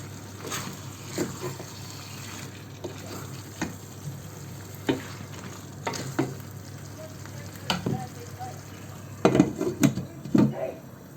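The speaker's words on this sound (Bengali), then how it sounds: "কেটে আমি এটাকে কষিয়ে নেব মশলার সাথে" Cut vegetables being sautéed with spices in a pan: a low sizzle beneath repeated scraping and clinking of a utensil, with a louder cluster of clatters near the end.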